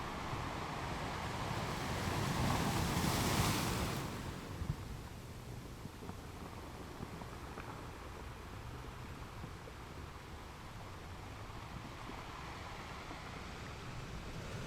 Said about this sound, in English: This is an awesome balcony overlooking the ocean.